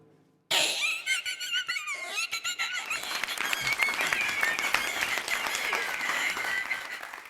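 A voice mimics a creaking, squeaking pulley with rope, a harsh grinding screech that drags on steadily, loud and near.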